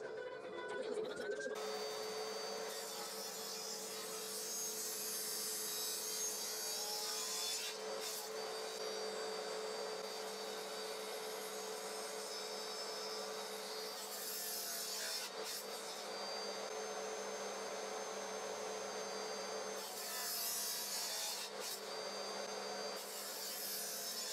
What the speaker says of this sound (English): I made a test cut with the jig on a frame that I was making as a gift